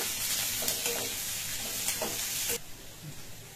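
Onions are stirred as they fry in a pan for a kuzhambu, producing a busy sizzle broken by repeated scraping stir strokes. The sound drops abruptly to a quieter simmer near the end, with no voices.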